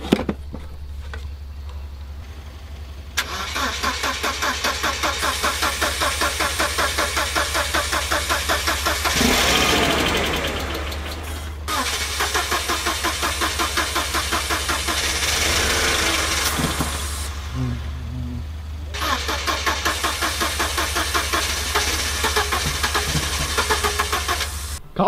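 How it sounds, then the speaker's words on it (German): Mercedes car engine cranking repeatedly without catching: steady starter churning in long bursts, loud and close, with brief breaks between attempts and no talk. "Gerade der Mercedes ist nicht angesprungen."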